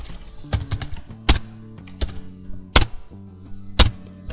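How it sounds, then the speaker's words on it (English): Computer keyboard typing while logging into a D-Link Wi-Fi router's management page: irregular, close, crisp key clicks with several louder taps, heard alone without talk. "let me type into the management page again"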